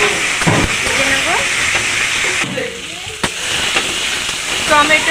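Grated tomato and ground onion paste frying in a pan make a hissing, bubbling sizzle that runs under a person talking, dipping briefly midway before picking up again.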